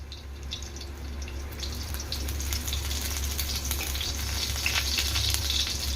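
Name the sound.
thinly sliced garlic frying for vegetable fried rice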